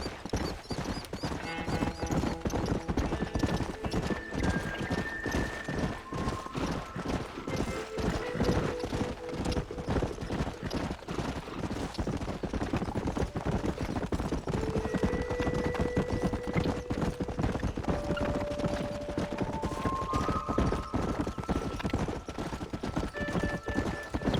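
Horse hooves clip-clop steadily at a riding pace in the Red Dead Redemption game, with occasional whinnies and light background music continuing throughout.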